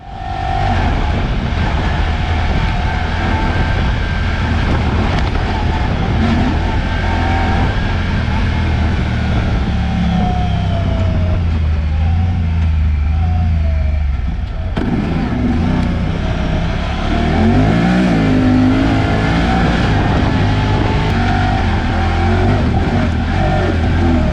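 A Honda Talon side-by-side fitted with a cargo barricade cruises along, its engine droning loudly and steadily throughout with rising revs and bumps, while someone talks intermittently over the noise.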